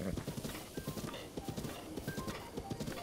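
A horse's hooves clip-clop in a steady galloping rhythm in The Legend of Zelda: Breath of the Wild. The footfalls are fairly loud and continuous, with faint game sounds behind them.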